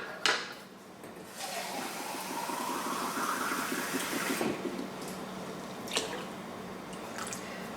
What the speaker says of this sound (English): I'm going to add enough water, I think, to get it almost to the top of this pot